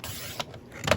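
A paper trimmer slices card for Halloween cards, heard as a few quick mechanical clicks and a short scraping slide of the blade, close and fairly quiet.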